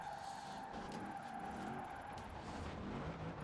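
A steady engine drone of a Honda NSX-R in Forza Horizon 4, with a hollow, echoing in-car quality, like driving through an enclosed space, continuous and fairly loud.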